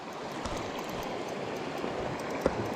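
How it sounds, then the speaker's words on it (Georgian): A rapid mountain trout stream rushes past, a continuous, fairly close broadband roar of fast water with small splashes and one sharp knock near the end, with no voices. "ო, იქ ძალიან ჩქერია წყალი"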